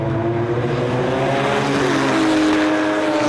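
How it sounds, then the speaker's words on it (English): Several Porsche GT3 race cars scream past together at racing speed, a loud, steady wall of high-revving engine noise with overlapping harmonic tones rising slightly in pitch. "These are the super quick GT3 cars up in front."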